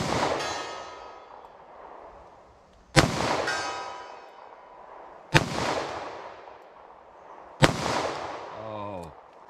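Winchester Silvertip .38 Special +P rounds are fired from a handgun into ballistic gel: four loud, sharp gunshots spaced a couple of seconds apart, each with a long ringing decay, and a brief metallic ring after the last.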